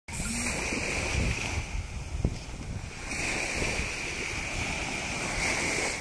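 Steady surf rolling onto a beach at night, a broad continuous wash mixed with wind buffeting the microphone, with no talking heard.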